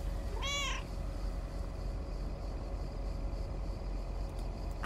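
A single cat meows once in the video game Lake, a short clear call near the start over a steady low background hum, with no voices.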